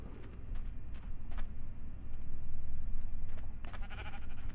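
Blocky Minecraft sheep bleat a few times in a game world, with soft clicks of keyboard typing and a low steady background hum throughout.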